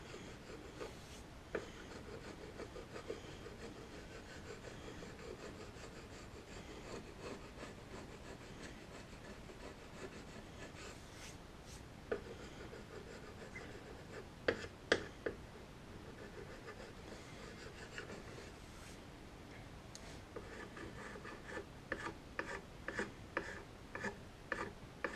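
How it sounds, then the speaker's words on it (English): Steady scratchy rasping of sandpaper on a mappa burl wood table goes on and on, fairly quiet, with occasional sharper scrapes and knocks. "In a minute here I'll start sanding."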